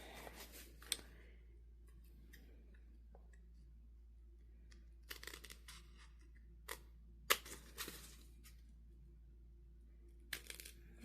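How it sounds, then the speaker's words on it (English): Fabric boxes are cut for a sewing project. Quiet, sporadic snips and clicks of scissors sound close by, with long hushed gaps between them. "Now we're gonna cut our boxes."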